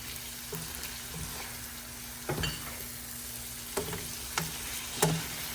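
Chicken liver fries and sizzles in a pan with garlic powder, pomegranate molasses and chili paste, a steady crackle broken by a few sharp scrapes and clacks of stirring.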